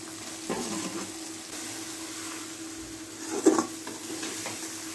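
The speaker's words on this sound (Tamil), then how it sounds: "இப்போ நம்ம வறுத்து வச்ச வாழைக்காயை அதோட கொட்டி கிளறிடலாம்" Fried raw banana pieces are stirred into a masala for Karaikudi-style dried fish poriyal in a pan, a faint sizzle under a few soft scraping stirs, the loudest near the end.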